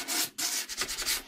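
Close, rhythmic sanding strokes rasp back and forth across a surface, several quick passes in a row.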